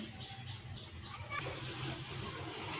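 Water draining off soaked green gram, a steady wet rushing and splashing that grows fuller partway through, close and alone.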